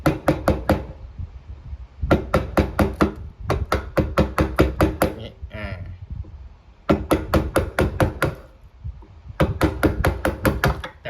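A hammer strikes a sharpened chisel to carve hardwood, giving close, loud bursts of rapid knocks in several separate runs with short pauses between them and no talking.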